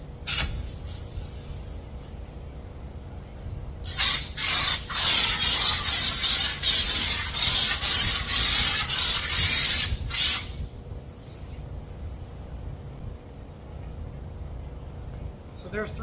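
Spray gun coating the fender guards of a 1954 GMC COE truck, a loud hissing blast in pulsing bursts for about six seconds, close up, with a quieter hum before and after.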